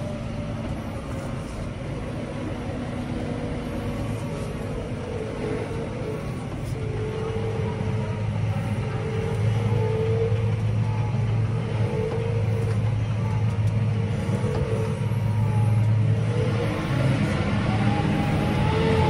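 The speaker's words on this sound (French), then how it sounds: "j'accélère et on voit que quand le tracteur monte dans les tours, ben, tout de suite c'est parti, le tracteur accélère" A Claas Arion 630 CMATIC tractor accelerating, its engine drone rising in revs and growing louder partway through, a steady continuous hum heard from inside or near the machine.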